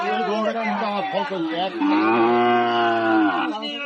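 A Sahiwal bull calf at a cattle market gives a long, loud, deep moo close by, with people talking nearby.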